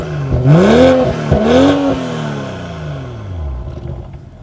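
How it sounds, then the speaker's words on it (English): A 2023 BMW X3 M40i revs through its active sport exhaust, two loud rising blips in quick succession, then a long falling growl that settles to a steady idle, close and alone with no talk. "let's go ahead and take a listen to the awesome exhaust note."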